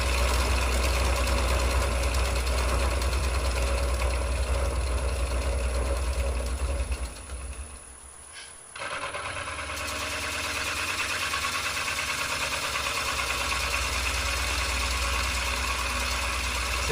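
A gouge cuts a wooden bowl on a spinning lathe, making a steady, loud whirring drone that dips and goes rough for about two seconds midway before settling back to a continuous hum.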